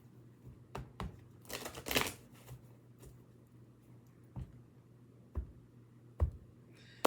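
A deck of cards is shuffled close by, with a quick riffling burst early on followed by scattered sharp taps and clicks as cards are handled. No one speaks.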